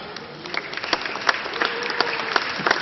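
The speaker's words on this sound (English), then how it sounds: "Big applause for you." An audience at a 10m air rifle final of a European Championship in Odense, Denmark, applauds the bronze medal winner: a sustained patter of claps with sharper individual hand hits standing out, fairly close and steady.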